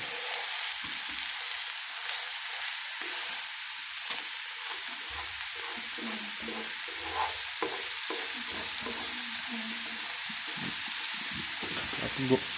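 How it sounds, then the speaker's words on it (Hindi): Shredded cabbage and chicken stirred and frying in a pan, a steady sizzling hiss broken by the scrape and clatter of a spoon against the pan, close and fairly quiet. "गोभी को 10 मिनट के लिए भून लेंगे।"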